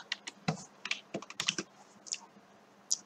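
Computer keyboard keys pressed in quick irregular clicks and taps, close and fairly quiet, with short pauses between bursts and no voices.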